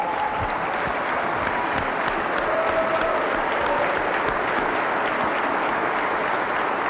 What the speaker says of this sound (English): we'll give you a great big round of applause